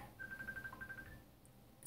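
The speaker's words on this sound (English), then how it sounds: "Excuse my phone." A phone rings briefly in a home kitchen, a thin steady electronic tone that pulses for about a second, faint and fairly close, with no talk over it.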